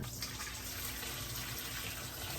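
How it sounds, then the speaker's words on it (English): Salted water is poured off beef and pig's tail being prepared for Jamaican stew peas, making a steady, continuous splashing stream with no talk. "I'm straining off the salted water from my protein"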